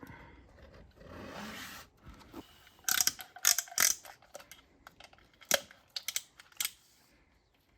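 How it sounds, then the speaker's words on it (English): A Harbor Freight piston ring compressor being tightened around an oiled piston, heard as a series of sharp ratchet clicks in short bursts after softer handling noise, close and clear against a quiet background. "we've just tightened this up just enough to get all the rings compressed"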